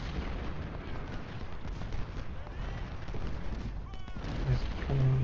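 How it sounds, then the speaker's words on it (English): Artillery fire in the Ultimate General: Civil War game, set at the Battle of Fredericksburg, comes as a dense continuous rumble of distant booms and gunfire with a few sharper reports near the end, mixed under faint voices. "One thing that's really bugging me is this artillery."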